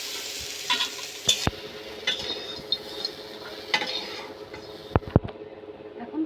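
Crab pieces sizzle in a frying pan, a low steady hiss of hot oil. Sharp metallic clinks and scrapes of a stirring utensil against the pan break through it at irregular intervals.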